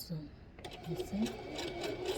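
A sewing machine stitches a closure wig with a fast, steady mechanical whir, moderately close and quiet, while someone talks over it.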